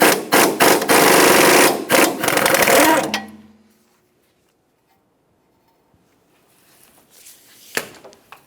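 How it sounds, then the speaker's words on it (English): A rusted sway bar end link nut on a 2003-2007 Honda Accord is driven off with a 14mm swivel socket, giving a loud, rapid mechanical rattle for about three seconds. Near-silence follows, then a faint clank. "Hold that stud and use a 14mm to remove the nut."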